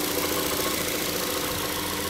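A 2013 Ford Fusion's 2.5-liter four-cylinder engine with about 85,000 miles runs at a steady idle, a loud, even drone filling the whole stretch with no talk.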